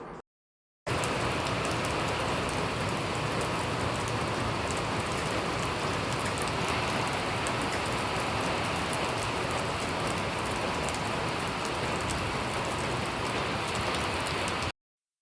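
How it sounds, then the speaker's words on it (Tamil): Heavy rain pours down steadily on a rainy day at home, a loud, dense, unbroken hiss of falling water that fills the whole stretch with no voices. "மழை செம்மையாக பிடிச்சிக்கிச்சு பாருங்கள்."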